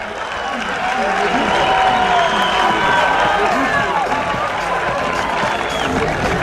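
Applause and cheering from a crowd at a U21 France versus Spain match fill the space, a dense, continuous wash of clapping that stays loud throughout.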